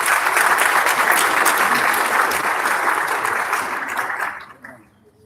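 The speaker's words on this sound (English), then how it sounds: "Let's give her a round of applause" Sustained audience applause at a foundation's waste innovation challenge launch event, a dense steady wash of clapping that holds for about four seconds before fading out.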